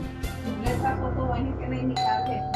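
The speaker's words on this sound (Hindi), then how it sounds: "जाके जल्दी से दरवाजा खोल दे, नहीं तो जला देगी घंटी" A doorbell rings repeatedly with bright ding-dong chimes in quick succession, loud and close, layered over a steady indoor hum, with a few overlapping tones near the end.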